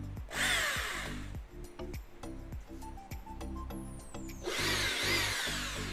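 A Japanese 100V hammer drill runs in plain drilling mode without hammering, giving a steady close motor whine with rising and falling surges as it spins up and down.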